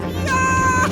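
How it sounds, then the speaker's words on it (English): A cartoon cat gives a single drawn-out, tonal meow, loud and close over a steady background of music. "Meow, meow, meow, meow, meow, meow."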